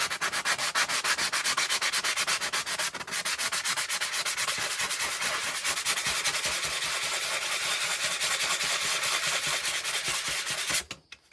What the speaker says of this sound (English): For the pad as well, I'm hand sanding here. Taking that glaze off.